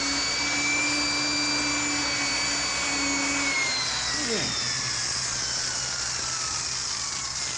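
A loud, steady mechanical drill whines continuously with shifting pitch as it bores into a safe, while a voice murmurs briefly underneath.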